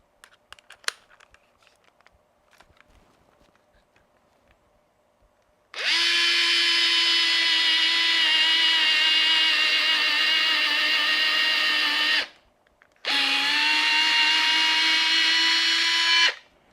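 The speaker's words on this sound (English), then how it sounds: "We're going to see how well it could drill a hole. So let's try the 1/8 drill bit." A Fanttik NEX L1 Pro electric screwdriver drilling a hole with a 1/8 bit, two steady high-pitched motor whines close by, the first about six seconds long and the second about three, after faint handling clicks.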